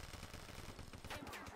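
A headshot from gunfire in Call of Duty Black Ops, made up of quick, dense, rattling shots over a short burst with low game noise beneath.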